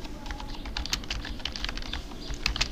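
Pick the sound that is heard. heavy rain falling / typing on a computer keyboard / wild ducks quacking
typing on a computer keyboard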